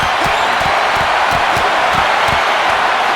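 A packed wrestling arena crowd roars continuously at a WWE event, a loud dense wall of cheering with rhythmic thumps from stomping or clapping running underneath throughout.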